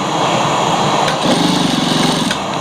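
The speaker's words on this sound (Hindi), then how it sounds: "ऐसी हल्की हल्की सिलाई हम लगाएंगे ऐसे, एडजस्ट करते जाएंगे साथ साथ" A sewing machine runs continuously while stitching a fabric collar, a steady mechanical whirr with a rapid even pulse that quickens and shifts pitch midway.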